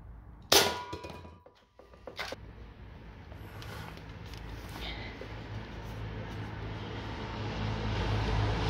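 Single sharp crack of a Dan Wesson 8 inch airgun firing plastic BBs at cans, followed by a second fainter hit, then a low rising background rumble; close and brief.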